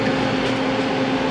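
A Harvest Right freeze dryer runs just after being started, a steady loud mechanical hum with a constant tonal drone and no pauses.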